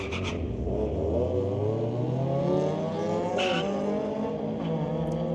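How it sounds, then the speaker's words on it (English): An Acura RSX at a street-legal drag racing night on a raceway, its engine revving hard through rising gear pulls with a sustained loud drone, no voices over it. "Nice little car, a little Acura"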